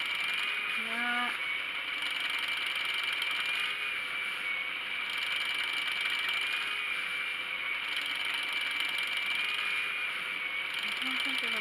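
A spinning wheel plying yarn rattles unevenly, a continuous mechanical clicking and whirring close by, fairly steady in level with slight periodic swells.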